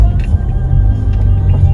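Car engine idling steadily with a deep, constant low rumble close by, held for the whole stretch with no break.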